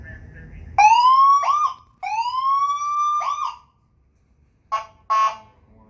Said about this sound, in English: Has a siren on it too.